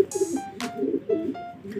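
Soft, throaty racing pigeon cooing repeats close by in short rolling phrases, with a few higher chirps and a brief rustle between calls.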